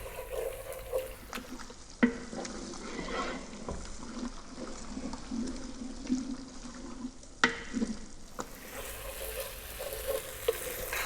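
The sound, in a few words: stirring and cooking tomato paste in a pot for beef stew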